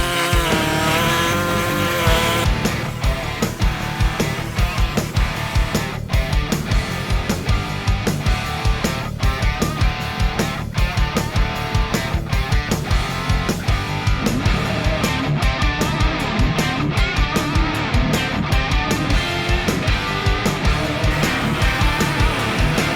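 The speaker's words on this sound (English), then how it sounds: "I'll rest the air hacksaw against my finger there and I'll hold my hand against the guard" An air hacksaw cuts through the plastic guard of a Mahindra-style MQ Triton ute for a snorkel install, giving a continuous loud reciprocating rasp with rapid regular strokes throughout.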